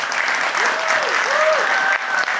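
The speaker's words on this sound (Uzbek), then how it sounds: "Ozod 2 ballga munosib deganlar bitta qarsak chalinglar" Audience clapping in a studio comedy show, a dense burst of applause filling the room at once, with a few speaking voices gliding over the clapping.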